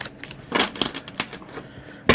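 A Majestic Earth tarot deck is riffle shuffled, giving crisp, fluttering bursts of card flicks that come in short clusters, close and fairly quiet, without talk.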